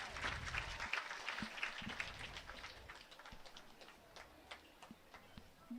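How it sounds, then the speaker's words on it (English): Applause for the Sheridan High School Marching Band at a 6A Arkansas playoff football game, a scattered, moderately loud clatter of claps from the stands with faint voices mixed in. "let's give a big round of applause to the Sheridan High School Marching Band"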